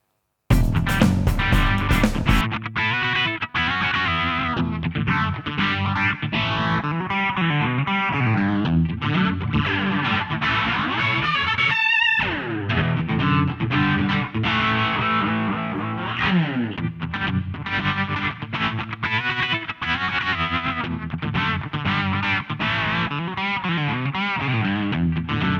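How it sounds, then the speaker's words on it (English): SSL Module 8 plugin rack of modulation and character effects running over a continuous music loop, with sweeping, swirling chorus-like tones and gritty distortion, a brief dropout near the middle, loud throughout. "Module 8 is a rack of 6 modulation effects plus 2 character effects,"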